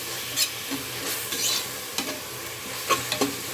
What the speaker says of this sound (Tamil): இப்போ அதையும் போட்டு நல்லா போட்டு வதக்கிடலாம்